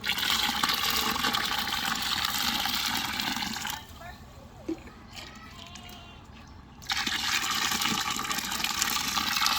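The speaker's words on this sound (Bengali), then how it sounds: "আমরা গরম পানি দিয়ে দিব" Hot water is poured into a pot of traditional chicken biryani, a gushing, splashing rush that fades briefly in the middle before resuming strongly.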